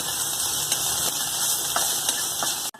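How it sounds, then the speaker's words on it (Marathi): Chillies frying in hot oil before okra goes in, a dense, steady hiss of sizzling with a few faint clicks of stirring, close and constant, with no speech. "एक 2 मिनिटं मिरची तेलात परतून घेऊ।"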